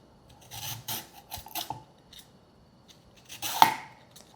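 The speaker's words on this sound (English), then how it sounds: "So I like to use this peeler that has this teeth-like design on it." A julienne peeler with a toothed blade rasps down a carrot in a few short scraping strokes, shredding it into fine strips, with a quieter pause before one last sharper stroke near the end.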